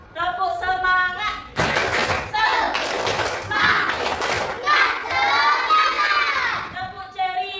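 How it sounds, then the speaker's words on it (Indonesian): Primary-school children in a Palembang classroom chant 'tepuk semangat' in unison, with bursts of rhythmic group clapping breaking up the sung phrases, loud and close. "coba kita tepuk semangat"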